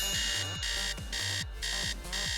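A phone alarm rings in a repeating electronic pattern, bright tonal bursts of about half a second alternating with short gaps, with a low chirping warble underneath, loud and close throughout.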